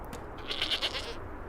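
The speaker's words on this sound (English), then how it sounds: "is an ugly goat" Goat bleating from an animated series scene, a single wavering bleat heard alone and fairly close, with no talk over it.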